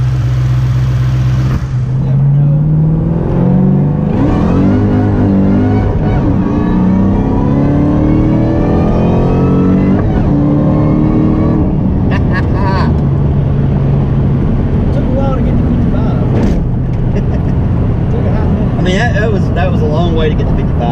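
A car with an Eaton two-valve setup, in for repair, accelerates slowly up to 55 with a steady, loud engine and road drone rising through the gears, while people talk over it throughout.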